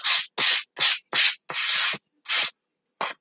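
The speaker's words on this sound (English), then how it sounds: "I'm going to use like a 220 and just do a light, quick sand on it" Quick strokes of 220-grit sandpaper lightly sanding a surface, about seven short passes with one longer stroke, close and fairly loud with brief pauses between.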